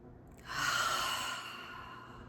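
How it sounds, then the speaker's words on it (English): A single long, steady exhale of breath during a slow-counted breathing exercise, a soft close airy rush that fades gradually after about a second. "Consciously blow any stale air out of your lungs that you want to."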